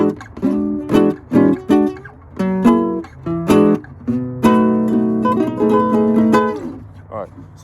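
Electric blues guitar playing ninth chords in short, punchy stabs that open into longer ringing chords, loud and close with no voice over it.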